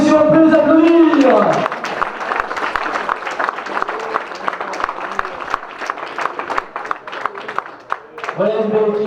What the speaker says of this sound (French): mesdames et messieurs, on peut les applaudir.